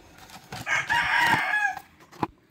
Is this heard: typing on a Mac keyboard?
no